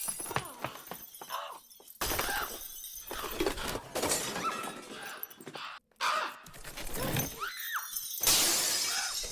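Household furnishings crashing and smashing as a ceiling chandelier breaks loose and falls, a chaotic run of loud shattering impacts and clatter with brief pauses, plus a bird cawing amid the wreckage.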